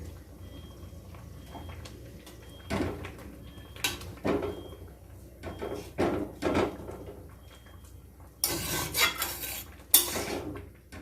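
A utensil stirs chopped tomato into mustard greens for Punjabi sarson ka saag in a pan, giving irregular clanks and scraping knocks of metal on metal, close and alone, with louder clustered strikes toward the end.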